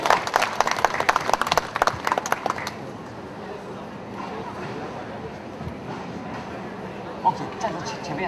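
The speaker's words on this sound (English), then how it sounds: "大家鼓掌一下，好不好？" An audience claps after a lion dance performance at a Taiwanese traditional week event, a burst of scattered applause for a couple of seconds that fades into room murmur while a host talks.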